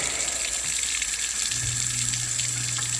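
Water runs steadily from the drain tap of a Rheem water heater during an anode rod replacement, a constant close hiss with a low hum joining partway through.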